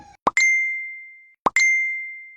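A phone notification chime after a bKash mobile money transfer: two identical bright ding tones, each with a short plop before a ringing ring-out, about a second apart, clear and alone.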